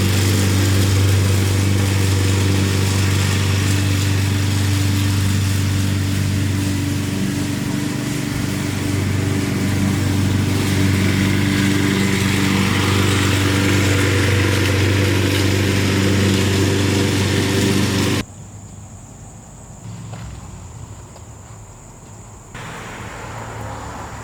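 A lawnmower engine runs steadily in the background of a garage where a Honda K24A2 engine is being prepped for rebuild, a continuous droning hum that cuts out abruptly near the end, leaving quieter room noise.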